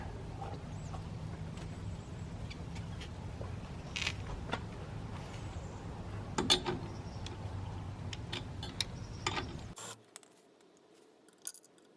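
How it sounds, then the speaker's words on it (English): Metallic ratcheting and clinking as lug nuts are run onto the wheel studs of a 6x10 cargo trailer, with intermittent clicks and taps close by, ending in near silence. "run all the lug nuts in until they're just barely, not even really snug"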